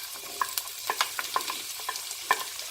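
Chopped onions cook in hot oil in a pan for an aloo baingan sabzi, giving a quiet sizzle broken by sharp little pops and scraping stirs at an uneven rhythm.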